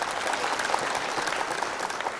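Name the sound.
audience applause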